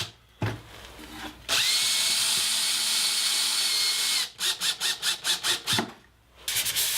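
A cordless drill drives 1.5 inch screws into wooden rail pieces of a garden stool: a couple of short bursts, one long sustained whine, then a rapid run of short pulses as each screw seats, loud and close.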